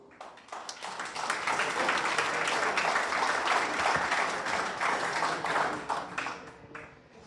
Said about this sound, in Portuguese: Estrela. Aplauso.